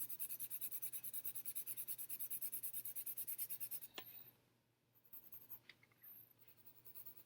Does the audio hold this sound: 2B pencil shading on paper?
yes